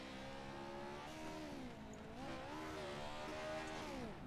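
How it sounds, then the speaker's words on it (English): Pro4 racing trucks at Crandon, heard as a faint, steady engine drone whose pitch rises and falls as they rev and accelerate, distant and continuous throughout. "you still get to witness the wonderful sounds of these incredible trucks"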